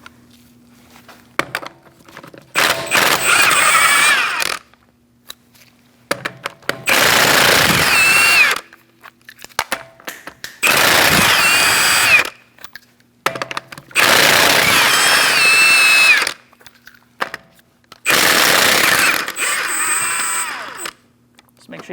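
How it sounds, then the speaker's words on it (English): Power tool spinning off the lug nuts of a Chevrolet Sonic wheel with a 19mm socket, five loud close bursts of rattling whir, each lasting a couple of seconds and separated by short quiet gaps. "Using a 19mm socket, we're going to remove our lug nuts."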